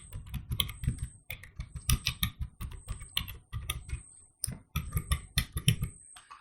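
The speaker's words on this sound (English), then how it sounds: "I will type in the password" Computer keyboard keys tapped quickly to enter a password, a close, crisp stream of uneven clicks with brief pauses, no voices.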